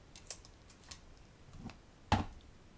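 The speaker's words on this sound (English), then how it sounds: "And peel this tape away." Tape peeled away from a rubber stamp during card making: a few faint soft ticks, then one short, sharp ripping burst near the end, close by in a quiet room.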